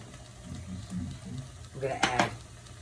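Vegetables sautéing in a pan with a splash of broth for portobello stew, a soft steady sizzle with quiet stirring and a brief clatter of utensil against pan near the end.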